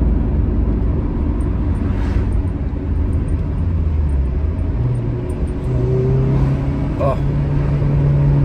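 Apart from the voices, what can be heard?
Honda Civic FN2 Type R engine revving with Hybrid Racing intake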